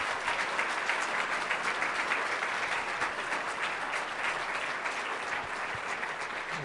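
Audience applause at a Principles First summit in Washington, a dense, steady round of clapping from a crowd that holds at an even level throughout.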